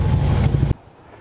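Strong gusting wind rumbles loudly into the microphone on a historic suspension bridge in Mills County, Texas, then cuts off abruptly to quiet after about three-quarters of a second.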